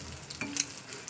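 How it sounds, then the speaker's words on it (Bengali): An egg frying in a pan gives a brief, close sizzle with a soft scrape or stir. "ডিম ভাজা হয়ে গেছে"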